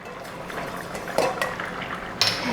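First-press coconut milk is poured into a simmering fish and raw mango curry, a brief, close liquid splash over a gentle bubbling with a couple of faint utensil clinks.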